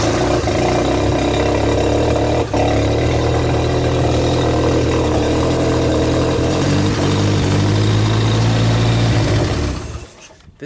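A Genie boom lift engine, with a faulty oil pressure switch, runs steadily and loudly nearby for about ten seconds before abruptly shutting off.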